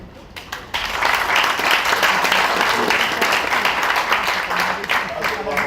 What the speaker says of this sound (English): So we need to thank them and clap for him too.